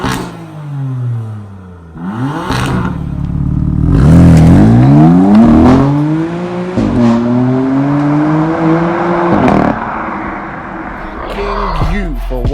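2017 BMW M3 Stage 1 revving hard as it drives, loud rising and falling engine pitch sweeps with gear changes, close and dominant, with a voice briefly over it.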